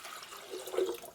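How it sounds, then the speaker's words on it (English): Water poured into a glass electric kettle, a short soft splash and gurgle of filling liquid lasting about a second, close and fairly quiet with no talking. "Let's go ahead and pop that out, pour some water in here."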